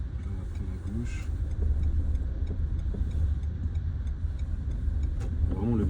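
Renault Mégane IV 2019 car driving in second gear and accelerating, a steady low engine hum and road rumble running throughout, with a person talking over it.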